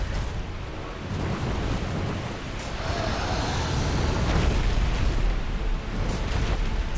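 Black Dragon Kalameet breathes fire in Dark Souls, a sustained roaring, rumbling blast that swells steadily for several seconds without speech.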